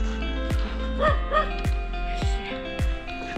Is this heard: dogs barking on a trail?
yes